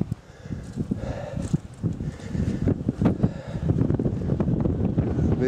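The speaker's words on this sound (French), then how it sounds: "On arrive sur la crête en plein vent" Strong wind buffets a mountain ridge in the Jura, roaring in loud gusts against the microphone with fluctuating low rumbles.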